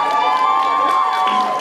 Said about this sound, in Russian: Аплодисменты человеку.